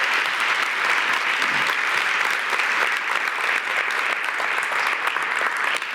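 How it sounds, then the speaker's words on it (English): A conference audience gives a massive round of applause, loud sustained clapping filling the room evenly for the full six seconds. "how about just a massive round of applause for Ben for putting this together"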